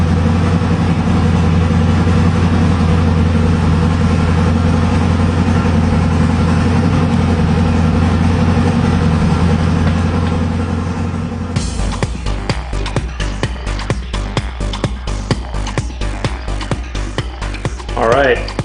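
A 1450 hp twin-turbocharged, twin-injected 388 cubic inch LSX small-block V8 in a 2010 Camaro idles loudly and steadily with a deep rumble, then shifts to a choppy, pulsing lope for the rest of the clip.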